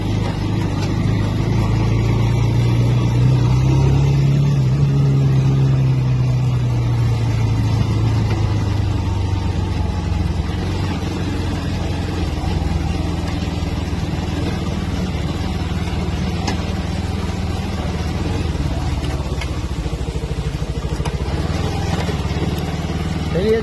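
Motorcycle riding along a rough mountain road, its engine a steady, close drone throughout with a rising rev near the start, mixed with road and wind noise; no speech is heard.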